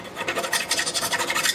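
A small file rasps against a 1957 Roy Rogers guitar, scraping off old glue in quick, steady back-and-forth strokes, close and fairly loud with no talking.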